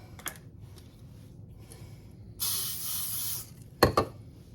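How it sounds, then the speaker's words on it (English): Canola oil cooking spray is sprayed onto a baking pan in a single hissing burst of about one second, close up, followed by a couple of light clicks and taps from the can. "we're going to just spray each one of them good with some"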